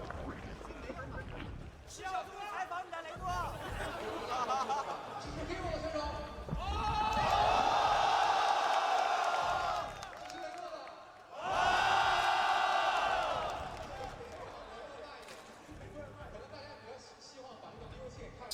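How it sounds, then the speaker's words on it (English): Large esports arena crowd at a StarCraft II All-Stars Invitational final, a steady roar under casters' talk that swells loudly twice into sustained cheering before settling back to a murmur. "Just enjoying listening to the crowd"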